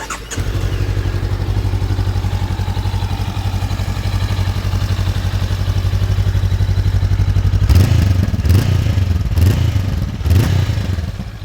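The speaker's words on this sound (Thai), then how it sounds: "ฟังเสียงเครื่องยนต์" A 2020 Honda CBR500R engine idles steadily and close by, with a low, even putter that gets a little rougher and louder near the end, along with a few clanks.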